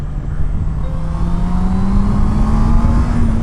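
A Honda CB650R motorcycle engine pulls in third gear, its tone rising steadily as it accelerates, loud and close with heavy wind rumble and no talk.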